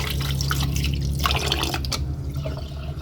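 Corn being washed in water in a kitchen: close, wet splashing and dripping with trickling liquid as the kernels are rinsed, with no talk.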